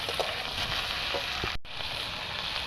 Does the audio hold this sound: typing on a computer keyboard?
no